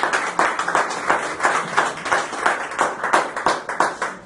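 A church congregation claps steadily together, loud sustained rhythmic applause filling the room during a Spanish-language service, with no talking.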